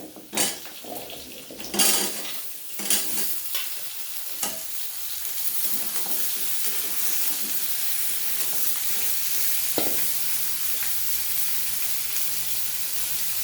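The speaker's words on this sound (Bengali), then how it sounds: "পেঁয়াজগুলো আমার ভালোভাবে ভাজা হয়ে গেছে এবার আমি কচুগুলো দিয়ে দিচ্ছি" Cubed taro tips into a pan of well-fried onions, with a few sharp clatters of a spoon against the metal pan, then a steady, close sizzle of frying that carries on under occasional stirring scrapes.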